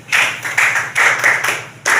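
A class of students claps in quick, uneven bursts, about half a dozen sharp rounds of clapping close by in two seconds.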